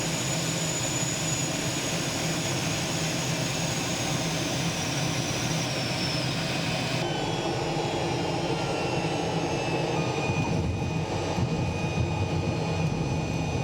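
A small airplane's engine drones steadily and loudly throughout at a general aviation airport, a continuous even hum with no speech over it.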